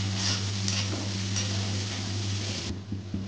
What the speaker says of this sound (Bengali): পেঁয়াজগুলো যাতে তাড়াতাড়ি ভাজা হয়ে যায় সেজন্য একটু লবণ দিয়ে দিলাম